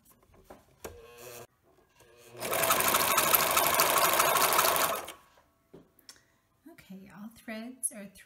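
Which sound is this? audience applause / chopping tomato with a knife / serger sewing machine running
serger sewing machine running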